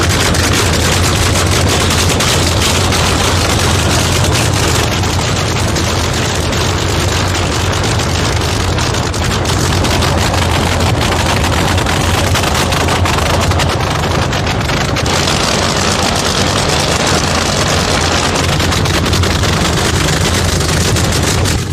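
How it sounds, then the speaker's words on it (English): Nitro funny cars at a night drag race, a continuous deafening, crackling engine roar that stays loud and saturated throughout, with rapid explosive pulsing. "Nothing in motorsports is as violent as the launch of a nitro funny car."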